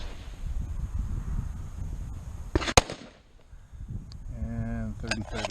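A single sharp rifle shot cracks at an outdoor range as the round passes through a ProChrono DLX chronograph. The report is brief, loud and close, with wind noise before it and a voice speaking afterward.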